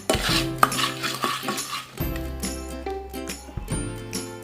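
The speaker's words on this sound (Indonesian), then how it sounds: "Diaduk rata." A utensil scrapes and clinks steadily against a pot as a pudding mixture of Nutrijel, cornstarch and papaya juice is stirred, with rhythmic metallic scraping and no talking.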